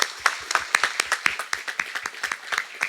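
Audience at a community event in a church claps in a thin, sparse round, individual sharp claps spaced irregularly and fairly close, with no voices over them.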